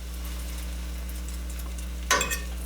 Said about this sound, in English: I'm going to put a piece of bread in and see if it sizzles